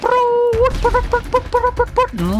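Rapid gunfire in the zombie survival game The Horde Wants You, a quick series of sharp shots in an uneven rhythm, loud and close over tonal game effects.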